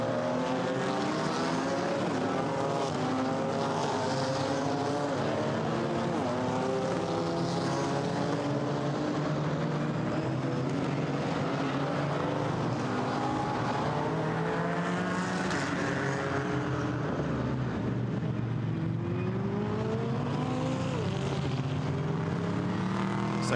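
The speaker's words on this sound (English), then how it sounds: "So the cars come through, and just under 8 minutes of the race to go now." GT4 race cars roar past one after another on the Monza circuit, engines rising and falling in pitch as they sweep by, loud and continuous for the whole stretch with no voices over them.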